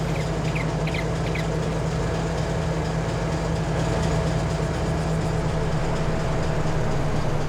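A simulated train rolling along track in Farming Simulator 22 with a placeable train mod, a steady engine drone and rail rumble at even level, with a few faint high chirps early on and no talk.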